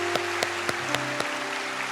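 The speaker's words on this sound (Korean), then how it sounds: "우리 환영의 박수 하겠습니다" A church congregation at a Sunday service claps to welcome new members, a dense wash of applause under a sustained organ or keyboard chord, with a rhythmic thump recurring about every quarter second.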